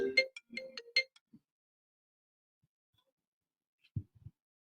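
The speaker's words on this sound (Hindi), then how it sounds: "आपके यहाँ फोन बज रहा है क्या सर?" A mobile phone ringtone plays a short burst of bright electronic notes at first, fairly faint, then falls silent, with a couple of soft low thumps later.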